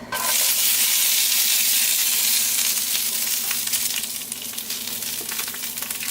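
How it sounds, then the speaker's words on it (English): Green beans fry loudly in oil in a pan, with a dense, steady sizzle that starts abruptly and eases slightly over several seconds, and no talking over it. "We're going to add a tiny bit more oil to our pan. Let's do the green beans."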